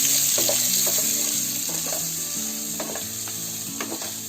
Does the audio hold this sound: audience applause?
no